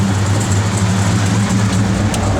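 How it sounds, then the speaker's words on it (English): A 1970 Chevrolet Chevelle SS with a big block V8 runs at a steady idle, a deep continuous rumble with an even low throb, loud and close, with no talk over it. "Good sounding big block."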